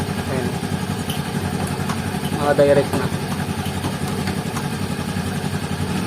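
A Yamaha Fazzio scooter runs at a steady idle, close by, after a wiring repair that bypasses the side-stand cutoff. People talk over the low engine hum.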